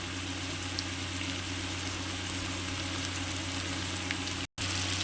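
Potatoes and Malabar spinach greens sautéing in hot oil in a home kitchen, a steady, close, even sizzle with faint crackles, alone and without talk, briefly cut out near the end.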